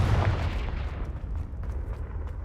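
A fiery Confringo spell blast in the Hogwarts Legacy video game, a heavy booming explosion with a deep rumbling onset that fades into a crackling, hissing tail.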